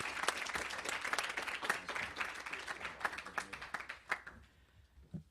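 An audience at a National Press Club journalism gathering claps for a professor: dense, fairly quiet applause that thins into scattered claps and fades toward the end.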